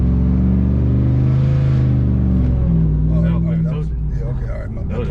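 An 800-horsepower Ram TRX truck roars at full throttle while held for a launch, a loud, deep, sustained engine drone that eases slightly toward the end.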